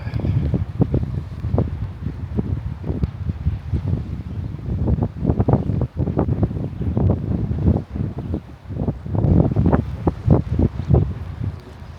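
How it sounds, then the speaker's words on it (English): Steady wind blows outdoors on a drizzly morning at an island campsite on the Great Lakes, a continuous rushing buffet with gusty swells and microphone rumble throughout. "A little windy this morning."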